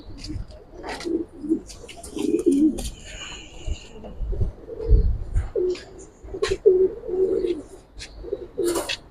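Pigeons coo repeatedly in a loft, soft rolling throaty calls close by, mixed with wing flutters and a few chirps while people talk nearby.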